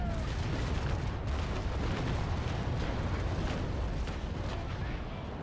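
Broadside from the ship cannons of HMS Pandora in the naval combat game Naval Action: a loud, sustained roar of overlapping booms that stays dense and rumbling throughout, with no clear gaps.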